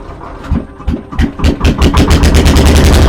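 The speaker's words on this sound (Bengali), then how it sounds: "টোট চালু করে দিল" A small wooden boat's engine on the Matla river near Canning cranks over with a few uneven bursts, then catches and settles into a loud, fast chugging rhythm that speeds up close by.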